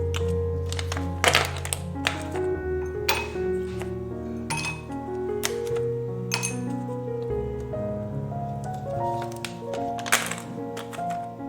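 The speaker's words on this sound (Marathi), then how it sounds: "बर्फाचे तुकडे टाकून घेत आहे" Several sharp clinks of ice cubes dropping into a glass of homemade Frooti-style drink, irregular and close, over steady background music.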